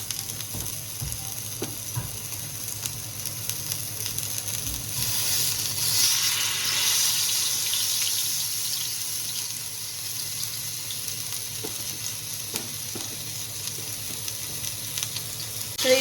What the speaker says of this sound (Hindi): हम चिकन को फ्राई कर लेते हैं।